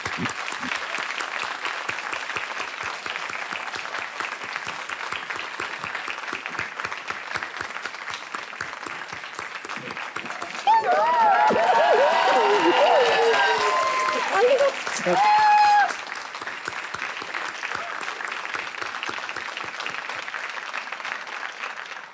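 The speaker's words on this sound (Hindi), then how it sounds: "तालियां बज जाए उनके लिए।" Sustained audience applause in a game-show studio, a steady wash of clapping that swells midway with cheers and whoops before settling back.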